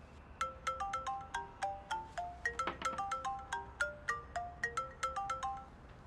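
A phone ringtone for an incoming call plays alone in a quiet office, a bright melodic electronic tune of rapid repeating notes, fairly faint and steady, with no talk.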